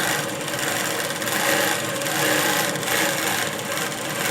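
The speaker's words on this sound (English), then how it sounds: "now I'm going to sew, and I'm going to assess the stitch" A sewing machine stitching steadily at close range, a continuous loud rasping whir with a gentle pulsing rhythm and no pauses or talking.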